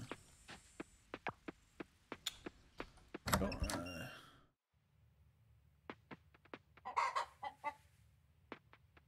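Chickens in the Coral Island farming game cluck in short, spaced calls, with a louder flurry of fowl sounds midway, then more scattered clucks over quiet background.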